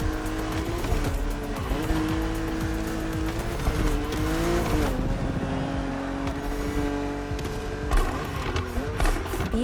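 BMW Z roadster racing in The Crew Motorfest, a loud engine revving and shifting through gears with tire squeal and skidding over nearly ten seconds, continuous and close with no talk.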